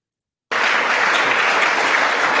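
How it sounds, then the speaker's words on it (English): Loud, dense applause fills the congressional chamber during the 2020 electoral vote count, starting abruptly after a brief silence and holding steady. "Listen to the applause."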